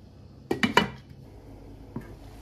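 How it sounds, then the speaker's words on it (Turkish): A few quick metallic clanks of a lid being set onto a pot of fresh green beans in olive oil, close by, followed a second later by one lighter knock. "Şimdi tenceremizin üzerini kapatıyorum, kapağını kapatıyorum ve ocağa götürüyorum."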